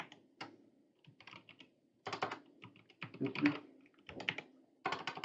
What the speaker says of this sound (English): Now I'm going to type in int.